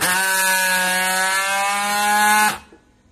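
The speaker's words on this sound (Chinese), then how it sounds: "按这个拉紧键， 拉紧了就把这个压下去" An automatic packing strapping tool tensions and welds a plastic strap, giving a steady, loud mechanical whine with a bright buzzing edge that holds for about two and a half seconds, then cuts off abruptly into quiet.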